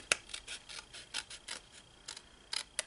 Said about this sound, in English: so I can get my scissors in there to cut the square out.